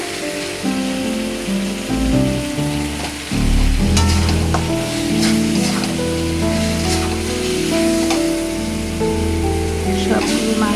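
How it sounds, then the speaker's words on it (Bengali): Chicken pieces dropped into spice paste frying in a pan, setting off a loud, steady sizzle with clatter as the meat goes in and continued crackling. "মশলাটা সুন্দর করে কষিয়ে এখন মাংসগুলো দিয়ে দিচ্ছি"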